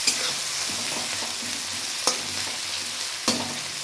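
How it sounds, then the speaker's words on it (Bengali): Onions stirred in hot oil for mutton curry, a steady moderate sizzle broken by two sharp utensil knocks against the pan, no talk. "পেঁয়াজটা দিয়ে এবার আমি নেড়ে দিচ্ছি ভালো করে।"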